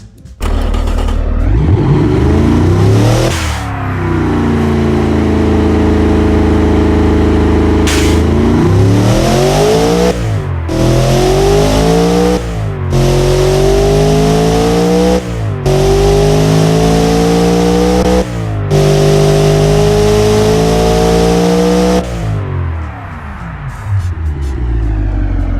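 Turbocharged car engine with aluminium dual overhead cams, built like a C63 AMG, revving loud and close in a series of repeated climbs and drops, each rising pull cut sharply before the next one.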